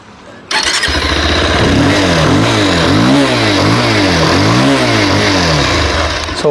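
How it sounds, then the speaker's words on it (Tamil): A Bajaj Pulsar 220F motorcycle engine starts abruptly from near silence, then its exhaust settles into a loud, close idle with repeated rising and falling revs throughout. "exhausting sound"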